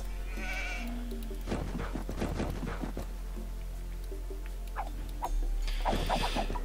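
Sheep bleating in the strategy game Age of Empires II HD, a few short bleats at the start and end over a steady low game hum, with a soft music line in between.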